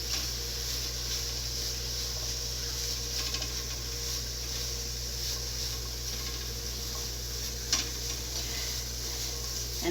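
Sautéed peppers and vegetables sizzle steadily in a hot pan while being stirred, with a constant frying hiss and occasional scrapes and clicks of the utensil, no talking.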